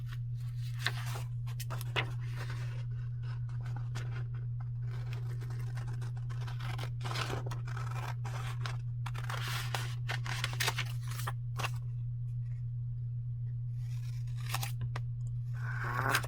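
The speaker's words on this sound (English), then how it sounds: "I'm going to use different scissors." Scissors snip through paper again and again in irregular, crisp cuts close by, with a steady low hum underneath.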